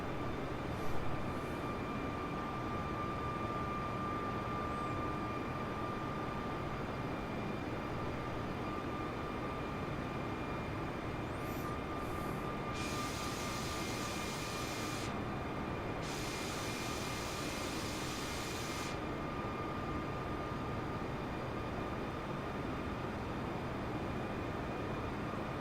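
Inside a small Cessna climbing over California, the light aircraft's engine drones steadily and loudly for the whole stretch, a constant dense roar with faint brief bursts of radio static and no speech.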